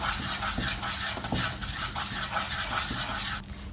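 A spoon stirs maida flour roasting in a pan for white sauce, giving a steady close scraping and soft sizzle with small clinks against the pan, continuous throughout and without talk.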